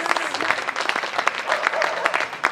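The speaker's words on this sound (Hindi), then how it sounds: "ताली बजा दीजिए" An audience at a Hindi kavi sammelan poetry gathering claps steadily for a couple of seconds, dense, even applause filling the room with no voices over it.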